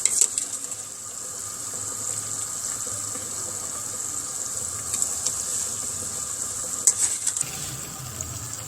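Potato pakoras being stirred into a simmering curry in a pan, a continuous sizzle and bubbling with soft scraping stirs and a few brief clinks, close up and without talk.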